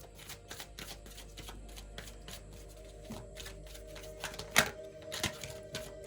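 Tarot cards handled and shuffled, a steady run of soft riffling card flicks with sharper snaps near the end, close and fairly quiet, with no talk over them.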